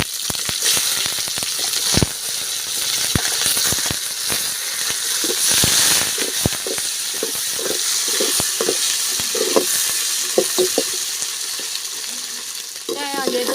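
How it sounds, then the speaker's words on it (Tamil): Fennel seeds, curry leaves and onion sautéing in hot oil for a mutton curry, a continuous crackling sizzle with frequent scraping and clinking of a spatula stirring in the pan, close and loud. "பெருஞ்சீரத்தோட கருவேப்பிலை வெங்காயம் தக்காளி சேர்த்துக்கணும்"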